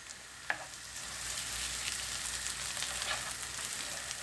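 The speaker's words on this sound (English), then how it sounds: "And we stir that for 1 minute." Curry with three tablespoons of Madras paste frying in a pan, a soft constant sizzle with a sharp clink from the utensil early on and faint scraping as it is stirred.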